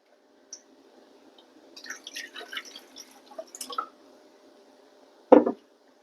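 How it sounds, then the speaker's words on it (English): Water is poured a little at a time into flour and butter in a bowl for a flaky pie crust, giving faint soft trickles and splashes followed by one short louder liquid splat near the end, with no talk. "I'm just going to pour a couple of tablespoons at a time and kind of mix it around my bowl."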